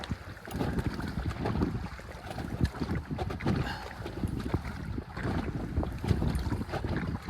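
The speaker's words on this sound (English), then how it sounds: "Trying to fight the current right now. Just doing a little bit of rowing." A small boat rowed against a strong current near a beach in heavy wind, with continuous wind buffeting and water wash over rough, uneven low rumbling, no talking.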